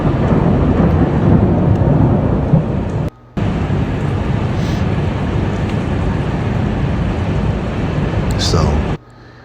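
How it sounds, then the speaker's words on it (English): Thunder rolls from a powerful New Year's Eve lightning storm over Washington, D.C., a loud, sustained rumble with rain-like noise that cuts out briefly partway through. "as the clock struck midnight on New Year's Eve, a powerful storm swept through Washington, D.C., culminating in a striking moment when lightning hit the U.S. Capitol"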